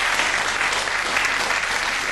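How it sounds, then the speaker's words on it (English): A studio audience applauds throughout, a dense, steady clatter of many hands clapping at close range with no voices over it. "I challenge the audience not to applaud any lengthy statement that Mr. Savile makes tonight."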